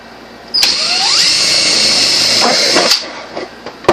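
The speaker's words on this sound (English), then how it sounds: "So now we're just going to drill out these last two holes." A power drill bores holes in a #10 steel can for a homemade hobo camp stove, giving one loud, steady whine of about two and a half seconds with a brief rising pitch as the bit bites, followed by a few clanks and quieter handling.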